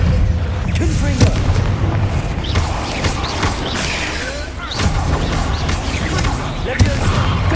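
Fiery Confringo spell blasts from the Hogwarts Legacy game, a run of booming bursts and sharp cracks over a dense rumbling battle bed, with spoken voices shouting spell names.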